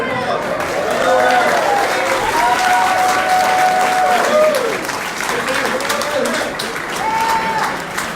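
Town hall audience in Las Vegas breaking into loud, sustained applause, dense clapping with scattered cheers and whoops, and a speaking voice faintly audible over the crowd noise.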